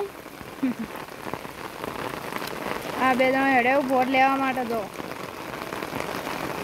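Rain falls steadily in a continuous soft patter on surfaces while someone talks over it at close range.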